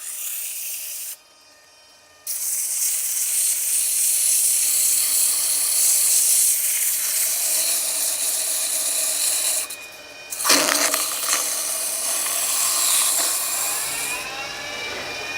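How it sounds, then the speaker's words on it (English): A small wooden box spins on a wood lathe running in reverse while 240 grit sandpaper is pressed against it, a loud continuous whirring rush broken by a brief drop near the start and a short pause midway. "My lathe is reversing, and this is a big advantage when sanding"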